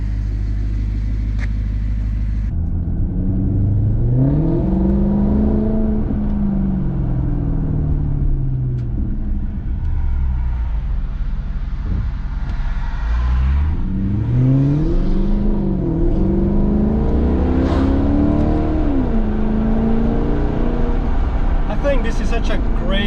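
A naturally aspirated Maserati GranTurismo engine pulls hard while driving, rising and falling in pitch through two long acceleration sweeps with a deep, loud exhaust note and steady road rumble.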